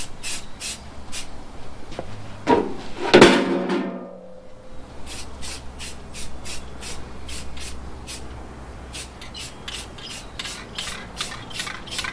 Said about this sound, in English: It's just sand it till it looks smooth or good enough for you.